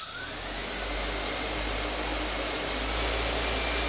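Quadcopter motors on an APM 2.5 Arducopter flight controller spinning steadily with a little throttle applied, a constant close whine with a faint high tone and no other sounds.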